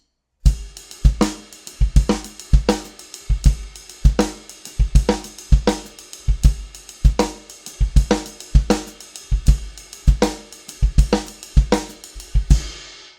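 A drum kit plays an odd-meter 5/4 groove built on quintuplets over the ride cymbal, with steady, evenly spaced accented hits and kick-snare punches repeating loudly and cleanly throughout, no voices present.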